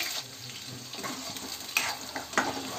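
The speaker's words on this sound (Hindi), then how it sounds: "अब ऐसे ही हम आलू को भी डाल के फ्राई कर लेंगे" Potato pieces fry in hot oil in a pan for an aloo gobhi matar dish, with a steady close sizzle broken by a few sharp scrapes and clinks of stirring.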